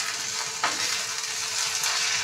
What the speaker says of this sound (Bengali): চলুন এই চিংড়ি মাছগুলো ভালোভাবে ভেজে নিই